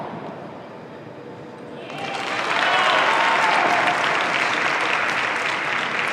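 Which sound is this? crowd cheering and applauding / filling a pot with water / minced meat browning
crowd cheering and applauding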